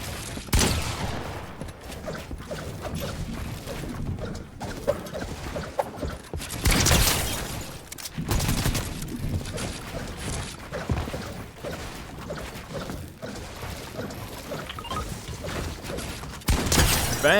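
Gunfire during a fight in a video game, played with what is called the worst gun in the game: rapid bursts of shots and mechanical clatter mixed with loud cracks and crashes, fairly dense throughout.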